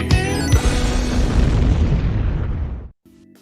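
Loud, sustained explosions from action footage, a heavy booming roar with a sharp initial blast that rumbles for about three seconds before cutting off abruptly, followed by a faint low hum.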